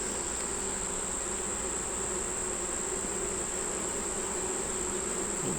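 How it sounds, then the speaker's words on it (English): Honey bees swarm around an open hive being worked by a beekeeper, making a steady, dense, unbroken buzz that stays loud and close throughout. "See these bees right here?"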